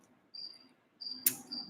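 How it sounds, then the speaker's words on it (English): Crickets chirp outdoors at night under a full moon, high steady trills in two separate bursts, fairly faint against a quiet background, with a brief sharp click near the end. "Those crickets, yeah, I should sacrifice them."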